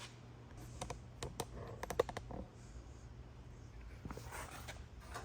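Plastic tab on the fuel tank of a 2006 Dodge Ram being pried and yanked with pliers, heard as a scatter of close, sharp clicks and snaps over a steady low hum, with no talking.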